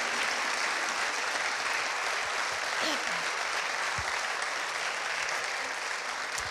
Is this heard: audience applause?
yes